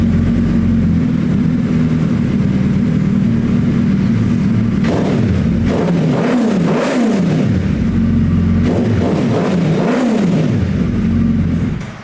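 A 2019 Suzuki Hayabusa motorcycle engine, loud and close, holds a deep steady idle and then rises in several sharp throttle blips and revs before settling back, with no talking.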